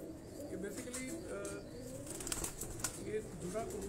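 Pigeons on a rooftop in Johar Town, Lahore, cooing and fluttering softly with occasional wing flaps, mixed with background murmur and faint voices nearby.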